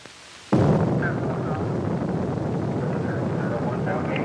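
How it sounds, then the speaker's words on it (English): Apollo rocket engines ignite at liftoff with a sudden, loud onset, then hold a steady, dense rumbling roar that fills the rest of the moment. "All engines go. Liftoff auto flight."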